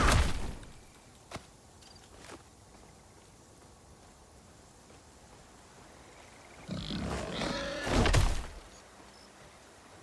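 A big boar in Titan Quest 2 lets out a rough, growling roar, a brief burst at the start and a louder, rasping outburst near the end, separated by quiet ambient noise with a few faint thuds.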